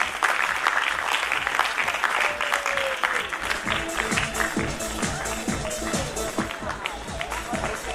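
Audience clapping at an International Women's Day felicitation ceremony, steady dense applause with a rhythmic beat underneath and a voice talking over it, music-like tones running through.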